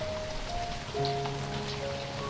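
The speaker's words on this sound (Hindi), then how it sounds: "अपने मुताबिक बर्तनों में टिपटिपाती बूंदों को समेटना" Rainwater drips and patters steadily onto surfaces and into collecting vessels in a forest tribal village during the rainy season, a dense, continuous close-up patter with no voices.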